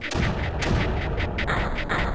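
Repeated heavy booming cannon shots fire in quick succession in the video game Creeper World, loud and close, with a dense rumbling roar between blasts and no talking.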